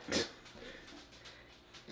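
Small pudgy puppy gives a short whimper then soft faint yips, brief and quiet at close range.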